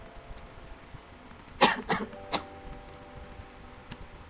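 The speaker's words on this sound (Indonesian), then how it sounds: "Sorry teman-teman, aku lagi batuk soalnya." A few sharp coughs in quick succession, close and loud against a quiet background, followed by one fainter cough.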